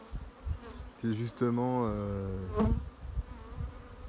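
Buckfast honey bees hum near a Brittany apiary, a close droning buzz that swells and holds for a couple of seconds. Someone speaks briefly in French over the buzzing.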